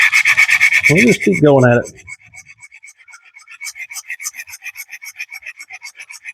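Camp knife blade drawn repeatedly across a sharpening stone, a steady rasping rhythm of close strokes, briefly interrupted by someone speaking before the scraping resumes.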